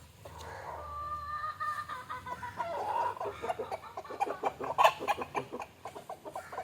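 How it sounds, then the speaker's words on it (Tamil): Free-range country chickens and a white rooster cluck near a coop in repeated, irregular bursts, some close and sharp, over a quiet background with no talk. "கோழிக்கு சவுண்டை பாருங்க."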